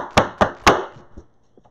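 Three firm, evenly spaced thumps as a cheesecake crust is tapped down in its pan, close and loud, followed by a few fainter knocks, with no talking.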